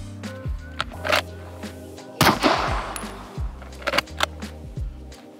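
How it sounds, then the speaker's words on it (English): Pistol fired downrange at an outdoor range after draws from a Safariland 7360RDS holster: several sharp, loud single shots spread out in a loose rhythm, one with a longer ringing echo, no talking. "now we're gonna put some rounds down range for you guys"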